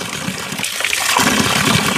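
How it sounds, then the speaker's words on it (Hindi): Cold water pours steadily from a mountain spring spout in a hill village, a dense continuous splashing gush, close and fairly loud, swelling slightly midway with no voices. "तो अब धारे का ठंडा ठंडा पानी पी लेते हैं।"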